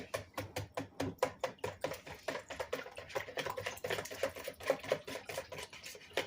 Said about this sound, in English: Now I'm going to whisk that all together.